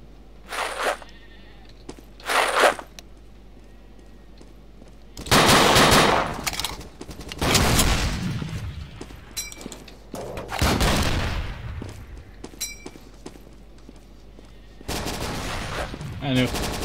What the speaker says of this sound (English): I'll stay here and just shoot them.